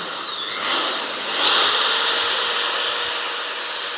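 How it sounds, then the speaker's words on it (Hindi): A 12V DC motor spun at high rpm by a power drill, giving a loud continuous high-pitched whine whose pitch rises and wavers, then holds steady to the end. "मैं इसे अगर छोड़ दूँ तो ये मोटर भी घूमने लगी है इसके साथ।"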